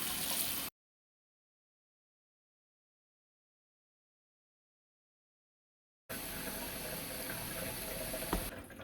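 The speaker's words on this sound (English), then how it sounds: "I'm going to go ahead and fill the sink up to the overflow" A bathroom sink fills steadily from the faucet, a continuous close rush of running water after a short silent gap, with no voices.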